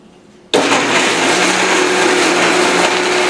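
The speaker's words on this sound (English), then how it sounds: "Let's blend it up." Quiet at first, then a blender abruptly kicks on and whirs loudly and steadily, grinding through an icy pineapple and cashew smoothie until the end.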